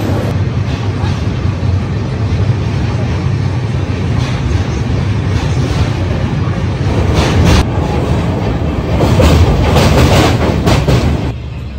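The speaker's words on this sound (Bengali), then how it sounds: "এই যে দেখতে পাচ্ছেন আমাদের ট্রেন দাঁড়িয়ে আছে" A train stands at Vijayawada station, filling the scene with a loud, continuous low rumble of engine and platform noise that surges near the end, with no clear speech.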